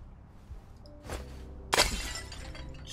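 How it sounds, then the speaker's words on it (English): In the video game A Plague Tale, a pot smashes on the ground, a sharp shattering crash over a low ambient hum, preceded by a softer crack, heard up close and loud without speech. "Did it sound like a pot hitting the ground very loudly?"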